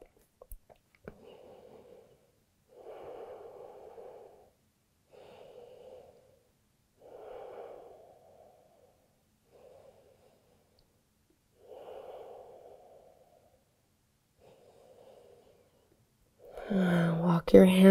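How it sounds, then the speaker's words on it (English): Slow, deep breaths taken in yoga child's pose, close and soft, with about seven long airy inhales and exhales separated by quiet gaps, then a louder breathy burst at the end. "Five deep breaths here."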